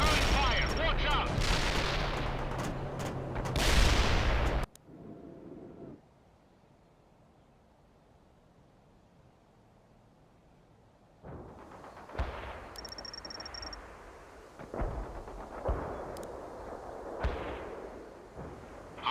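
Artillery and gunfire crackle in the battlefield of the strategy game World in Conflict, dense loud bursts at first, then near silence, then scattered shots and booms returning at moderate level.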